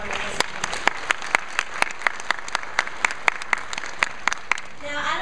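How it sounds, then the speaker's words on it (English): A small audience claps at a Christmas singing event, with sharp, distinct individual claps spaced in an uneven rhythm over a quiet room, and a brief rustle at the end. "Let's give her another applause for that one."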